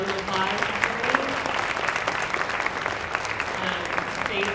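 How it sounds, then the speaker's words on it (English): Applause from an audience at a health care event, a close, even crackle of clapping hands that holds steady throughout. "So if everyone could give Daniel a round of applause."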